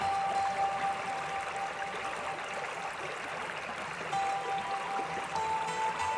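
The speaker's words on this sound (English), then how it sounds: "As you focus on the stream, imagine that you have the power to regulate your mood by controlling the flow of the water" Gentle stream water flowing steadily, a soft continuous wash and trickle heard at a low, even level with no voices.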